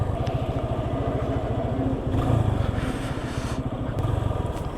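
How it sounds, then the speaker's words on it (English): Motorcycles rumble at a busy biker gathering spot near Mumbai, a steady close engine drone with rhythmic idling pulses and a louder swell midway, continuous throughout. "Just look at the amount of bikes here. This is the biker's paradise."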